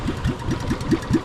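A five-year-old fishing boat engine runs close by with a steady, rapid knocking chug, loud and even, with no voices.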